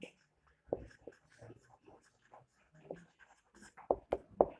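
A pen scratching on paper while writing out a differentiation problem, with short separate strokes that are faint at first and grow louder and sharper toward the end.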